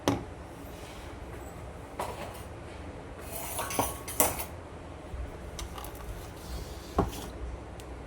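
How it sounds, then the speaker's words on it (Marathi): Utensils clink and scrape while fennel sherbet is strained, with sharp metallic taps and a few louder knocks of pots and spoons scattered over a quiet kitchen background. "आपण ह्याला आता गाळून घेऊया."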